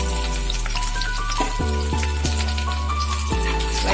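Chopped garlic and ginger fry in hot oil for pasta, a loud, steady, close sizzle that crackles continuously with no voices over it.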